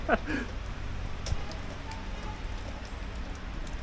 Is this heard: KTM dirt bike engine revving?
no